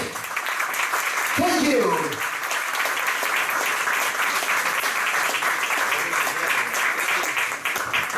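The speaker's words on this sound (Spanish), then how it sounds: "Un fuerte aplauso" Conference audience at a Chilean event on the shape of the Earth in 2019 applauds steadily to welcome a speaker. The thick, continuous clapping carries on throughout, and someone speaks briefly over it near the start.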